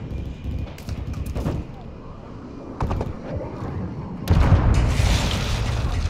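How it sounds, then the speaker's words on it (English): Heavy booms and bursts of gunfire from a Call of Duty Modern Warfare 2 cruise missile strike during an invasion on Sarrif Bay, with scattered impacts early on and a loud, sustained rumbling blast swelling over the final two seconds. "Friendly cruise missile approaching target."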